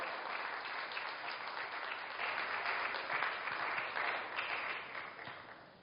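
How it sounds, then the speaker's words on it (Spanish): A church congregation claps steadily and continuously during a service, a dense, bright wash of applause that swells slightly in the middle and holds for several seconds. "¿Le puede dar palmas a Jehová Jireh, nuestro proveedor?"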